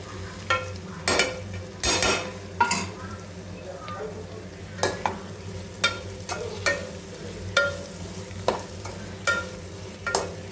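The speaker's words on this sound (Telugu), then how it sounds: "ఇలా మిక్స్ చేసుకోవాలన్నమాట." A spoon stirs capsicum frying in a pan, with repeated sharp scraping clacks against the pan in a steady irregular rhythm over a continuous soft sizzle, close up.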